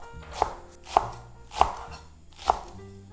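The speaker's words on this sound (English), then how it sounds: "Diagonally, thinly slice the green onion." A knife thinly slices half a stalk of green onion on the diagonal, for braised mackerel with radish: four crisp, close chops land at a steady pace, with no talking.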